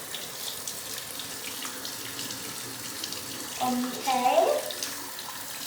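Water runs from a tap onto a toy being washed in a sink, a soft steady splashing hiss close by, with a brief spoken word and some louder splashing near the end.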